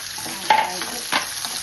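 Dry chillies, curry leaves, onion and green chillies fry in hot oil for a tempering, giving a close, steady sizzle with a couple of scraping stirs of a spoon in the pan.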